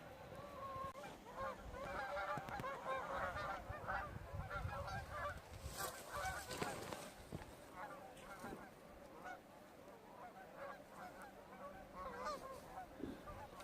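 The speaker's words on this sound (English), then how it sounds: "That's a lot of goose." A flock of geese honks continuously, many overlapping calls blending into a busy, fairly faint chorus from some distance.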